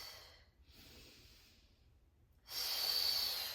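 Breath sounds from a person doing a Pilates core exercise with a squeezed ball, soft airy breathing building to a louder, longer exhale near the end.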